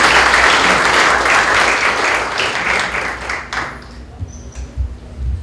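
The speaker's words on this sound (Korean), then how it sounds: "박수 한번 주시기 바랍니다." Audience applause at a corporate public-sector ceremony in Korea, a close, steady round of clapping that fades out after about three and a half seconds into quiet room sounds and faint shuffling.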